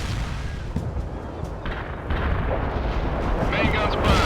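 Continuous rumbling booms and blasts of cannon and missile fire in the video game World in Conflict: Soviet Assault, loud and dense, with a burst of crackling near the end.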